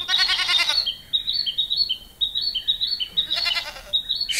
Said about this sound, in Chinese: 山羊